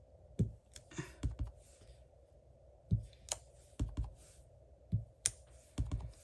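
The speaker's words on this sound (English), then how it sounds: "Just stamping." A rubber stamp presses hearts onto a silicone craft sheet on a tabletop, giving a series of soft, close taps and thuds at an irregular rhythm, with no talk.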